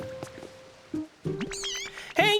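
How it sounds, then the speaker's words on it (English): Meowth, the cat Pokémon, meowing in the video game Pokopia: a few short, bright, cartoonish meow calls in bursts, mixed with other game tones and effects. "Oh, you're a Meowth, aren't you?"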